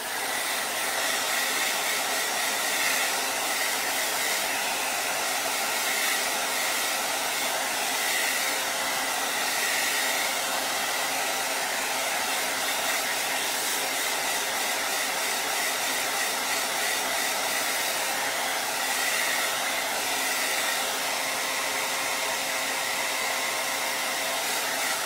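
A hair dryer blowing on acrylic paint runs as a loud, steady, close-up whoosh with a faint motor whine, unbroken for the whole stretch.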